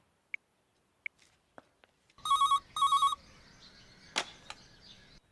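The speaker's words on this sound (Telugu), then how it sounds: "ల్యాండ్లైన్కి ఫోన్ చేసి నేనే కనెక్ట్ చేస్తాను." A landline telephone rings in two short electronic bursts, close and clear in a quiet room, with a few faint clicks and knocks before and after.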